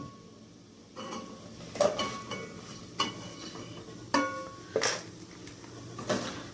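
Plates being set out in a home kitchen while making paneer biryani: a quiet room broken by a series of separate clinks and knocks of dishes and cutlery, several sharp hits spaced irregularly, close by and without talk.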